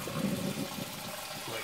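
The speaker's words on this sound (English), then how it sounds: "to the sink, in a colander, drain it" Cooked ground turkey is poured into a colander at a kitchen sink to drain, a steady gush of liquid splashing and rushing through the strainer, close and continuous.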